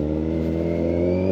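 Kawasaki Z900 SE 900cc naked bike engine running with a steady, close mid-pitched rumble and a slight rise in revs, heard alone without speech.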